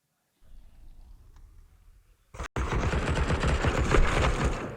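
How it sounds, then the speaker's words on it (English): MP9 submachine gun spraying in the Counter-Strike video game, a sudden loud burst of rapid automatic fire after a quiet stretch of faint low rumble, rattling on steadily to the end. "An MP9 spam after the double nade"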